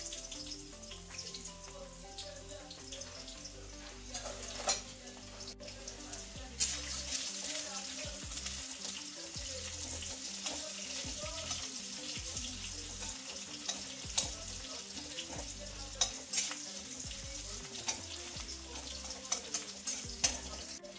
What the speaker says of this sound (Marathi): आता आपल्याला भेंडी पूर्ण तळून घ्यायची आहे तेलामध्ये